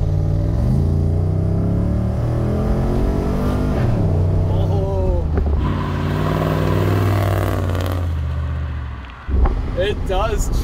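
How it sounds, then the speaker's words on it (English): An LS-swapped Mercedes turbo diesel car idles, rumbling steadily at low revs with a throaty exhaust drone, briefly dipping near the end before picking back up. "I think that's just how the exhaust sounds at idle."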